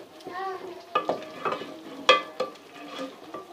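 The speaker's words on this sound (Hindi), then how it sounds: "इसको दाल को हमने इस तरह घोटना शुरू कर दिया" Cooked dal is stirred and mashed in a pot with a wooden masher for a dhaba-style dal chawal, giving irregular scraping and thudding strokes. Soft bubbling runs beneath, and the strokes sit close and moderately loud.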